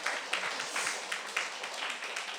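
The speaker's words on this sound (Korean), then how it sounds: "박수 한번 좀 해주시고" A church congregation claps during a Sunday worship service. The applause is a continuous, dense patter at moderate distance with a few sharper claps standing out, and faint voices murmur underneath.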